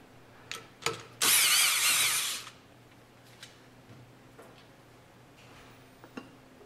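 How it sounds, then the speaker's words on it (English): A power tool whirs in one short burst of about a second while backing out a 5mm bolt from a crankcase access cover, preceded and followed by a few faint clicks and taps of tools on metal. "On top, remove two 5mm bolts from the crankcase access cover."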